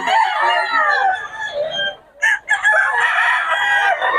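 A Sweater bloodline gamefowl rooster crows close by, loud and drawn out, broken by a brief gap before the crow resumes.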